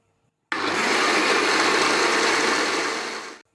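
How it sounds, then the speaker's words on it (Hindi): A blender whirs loudly and steadily for about three seconds blending a raw mango drink, starting abruptly and winding down at the end. "तो अब केरी के शरबत को ब्लेंडर में ब्लेंड करते हैं।"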